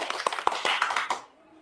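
A brief burst of hand clapping from a small audience at a religious talk, about eight quick, irregular claps over roughly a second before stopping abruptly into near silence.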